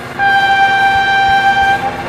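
A loud, sustained train horn blares as a single steady two-tone blast, close and clear, with light background rumble.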